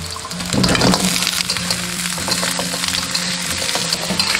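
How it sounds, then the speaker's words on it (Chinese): Pig trotters dropped into a wok of hot oil with scallion and ginger, a sudden loud burst of frying sizzle followed by steady crackling and stirring, close and without voices. "炒香后下入猪蹄"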